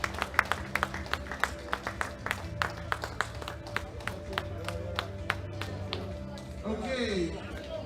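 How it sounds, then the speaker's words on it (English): A crowd at a powerlifting championship claps in sharp, steady bursts, fairly distant and moderate in volume, with a voice speaking over it toward the end. "give them another big round of applause"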